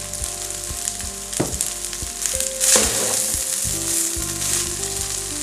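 Soy sauce hits a hot pan of frying pineapple chicken rice, a steady close sizzle with a sharper hiss surge midway and faint clinks of stirring.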